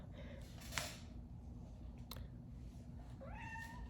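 Pet cat meowing indoors, a single rising meow near the end preceded by a couple of sharp clicks, over a steady low room hum.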